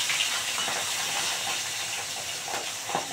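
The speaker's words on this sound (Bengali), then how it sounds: "একটা একটা করে ভাজবো। এক পিঠ হয়ে গেছে, উল্টে দেবো।" An unidentified sea fish fries in hot oil in a pan with a dense, steady hiss up close. A few soft knocks and scrapes suggest a piece being turned over, and no one speaks.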